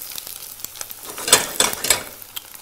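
Omelette egg frying in a pan gives a soft, close sizzle with light scraping taps and a few brighter crackles clustered mid-clip, no talking.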